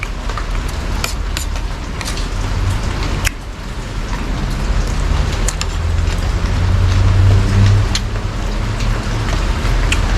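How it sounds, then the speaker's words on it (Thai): Steady heavy rainfall with scattered drips and patters on surfaces, constant and close, with a low rumble underneath. "นี่บรรยากาศฝนตกครับพี่น้องเอย"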